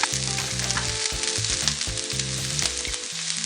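Garlic and onion sizzle in a pan with a bright, crackling fry, while rhythmic low thumps and a tonal hum from nearby equipment repeat steadily underneath; no one speaks.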